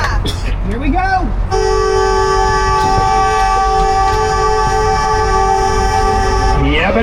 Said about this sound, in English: When Tony honks the horn, we're going to splash in.